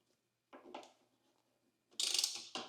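A ratchet wrench works a bolt loose while frame sliders go onto a 2025 Suzuki GSX-R 750 motorcycle, giving one short burst of clicks, a pause, then a louder clicking run and a final brief turn, close up with no talk.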